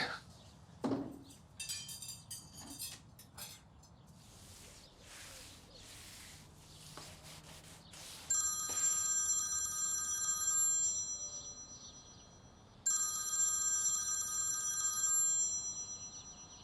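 A telephone rings in a home where breakfast is being eaten, with clinking dishes and clatter first, then two long bursts of ringing, fairly loud and close.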